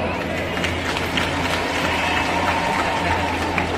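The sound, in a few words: audience applause for the guests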